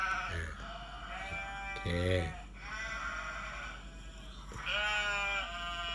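A sheep sound effect from iMovie gives several wavering bleats, and a voice speaks briefly between them.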